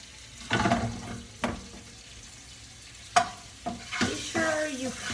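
Food frying in a pan while being stirred, with scattered scraping strokes and bursts of sizzle at an uneven pace, close by and moderately loud with no talking.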